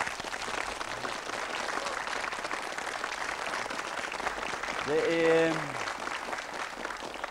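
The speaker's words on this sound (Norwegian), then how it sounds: "En liten applaus til de." Studio audience applause on a 1994 Norwegian TV entertainment show fills the room as steady broadband clapping, with a voice speaking over it and brief singing near the end.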